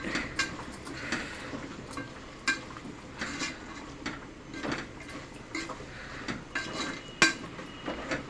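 A metal spoon stirs freshly ground chili powder into food in a pot on the stove, giving soft irregular scrapes and light clinks at a steady unhurried pace, faint and close with no talking.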